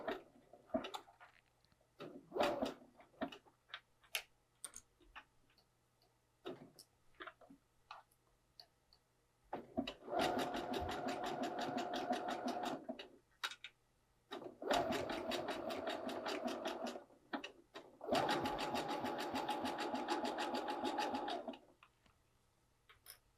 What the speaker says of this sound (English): sewing with that 5/8 seam allowance around the neckline